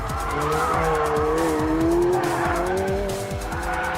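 A McLaren 720S drifts with its engine roaring loudly up close while the tires squeal continuously through the slide.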